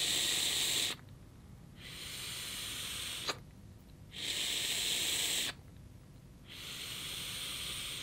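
Direct lung inhale drawn through an Ovis Boro bridge vape, three loud breathy hisses of airflow about a second apart, separated by short quiet gaps, with a faint click in one pause.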